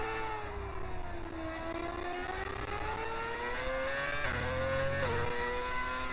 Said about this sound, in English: Oh, the sound of that engine.